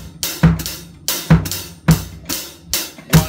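Latin groove on a drum kit, a steady repeating pattern of punchy low drum hits, snappy accents and bright cymbal or shaker wash, played alone up close.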